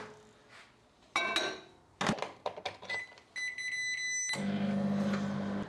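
Microwave oven heating a bowl of oats covered in water: clinks of the bowl and door clicks and beeps, then a steady low hum once it starts running.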